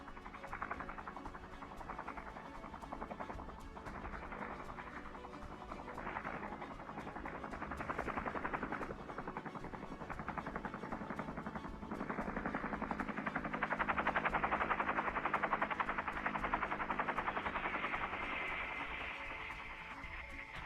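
A Bell Cobra military attack helicopter flies with a steady, rough rotor and turbine drone that swells slightly partway through, distant and somewhat muffled, continuous for about twenty seconds with no voices.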